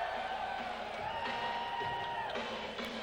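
Crowd at an arena football game in a convention center, a steady indoor murmur with scattered shouts and a sustained tone running through, fairly faint and distant.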